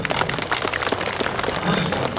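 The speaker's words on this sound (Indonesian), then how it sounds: "Dan tepuk tangan dulu buat dia" Crowd applause for a national boxing champion, dense steady clapping throughout at moderate volume, with no talk over it.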